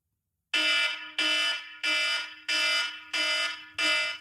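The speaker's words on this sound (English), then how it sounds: "can you hear that alarm at your end?" An indoor fire alarm sounding, six loud harsh buzzing blasts of about half a second each, evenly spaced and close, after a moment of silence.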